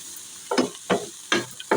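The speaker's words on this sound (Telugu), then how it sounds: "ఇప్పుడు దీన్నంతా అటు ఇటు కలయబెట్టుకోవాలి" Greens being stirred in a pan with turmeric and salt, giving four distinct scraping strokes at a steady rhythm over a faint background sizzle, close and fairly loud.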